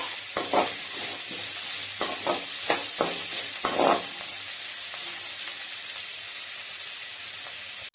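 Vegetables stir-fried over a high flame for homemade chicken fried rice, a constant hot sizzle broken by repeated scraping, tossing strokes of a spatula in the pan, bunched in the first half and then steady hissing alone.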